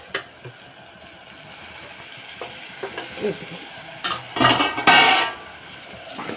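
Broad beans sizzle and fry in a pan while a utensil stirs and scrapes through them, with louder bursts of scraping toward the end and no talking.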